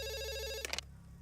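A telephone rings with a steady electronic tone that cuts off abruptly after under a second, leaving a faint low hum.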